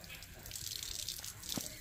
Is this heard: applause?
no